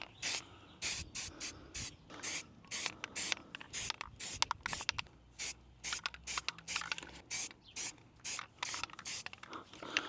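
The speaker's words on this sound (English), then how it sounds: "I'll catch you back when we're spray painting" A spray can is applying paint to a car rim in short, sharp hissing bursts separated by brief pauses, close and fairly loud.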